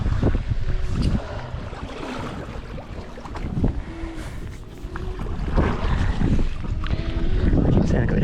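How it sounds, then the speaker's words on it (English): Crosswind blows across a stand-up paddleboard on open water during a charity open water swim event, a steady loud rush of wind noise buffeting the microphone throughout, with faint water sounds beneath. "There, probably hear the crosswind now."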